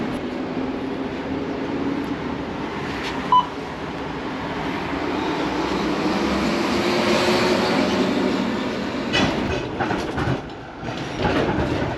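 An older tram without air conditioning rolls along with its windows down near Melbourne Airport, a steady loud rumble and rail hiss with intermittent clicks and rattles, swelling and easing over the ride, no talk.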